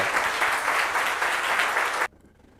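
A crowd at a data and CRO talk event claps loudly and steadily for about two seconds to welcome a speaker, then the applause cuts off abruptly into near silence.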